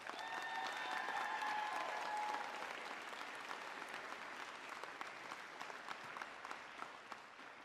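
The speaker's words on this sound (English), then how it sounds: "let's give them a huge round of applause" An audience at a JROTC awards ceremony applauds award recipients, a sustained burst of many hands clapping that starts full and eases slightly while continuing to the end.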